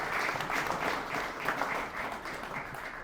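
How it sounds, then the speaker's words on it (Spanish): An audience at an evening event on Christmas traditions gives a speaker sustained applause, dense crowd clapping that stays even and fairly full from start to finish without pause. "Le damos un fuerte aplauso nuevamente a Miguel Ángel Muñoz Luna"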